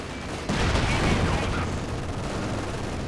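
Gunfire in the World War II strategy game Company of Heroes 2 during a 1v1 match, a sudden burst of sustained shooting and rumble that kicks in and keeps rolling steadily.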